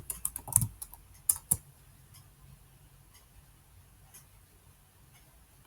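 A computer keyboard tapped in a quick burst of close, crisp keystrokes, then a few scattered isolated taps as the rest trails off quietly.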